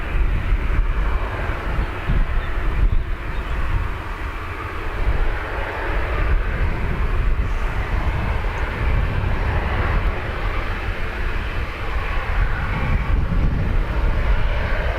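A British Airways airliner departs Dublin Airport bound for Heathrow, its engines a loud, steady broadband roar that holds throughout with no talking.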